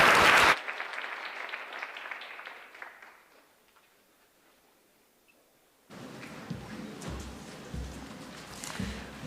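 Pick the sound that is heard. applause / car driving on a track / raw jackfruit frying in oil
applause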